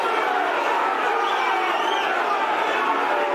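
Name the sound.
football crowd at Millwall match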